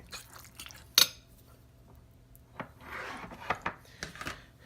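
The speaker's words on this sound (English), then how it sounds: "So we're going to give that a little bit of a stir." A spoon scrapes and rubs around a pot of buffalo chicken nacho dip being stirred, quiet intermittent scraping strokes with one sharp clank of utensil on metal near the start.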